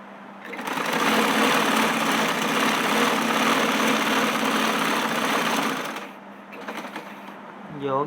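An electric sewing machine stitches cloth at a household table, a loud, continuous high-pitched whirring run for about five seconds that then stops, followed by quieter handling sounds.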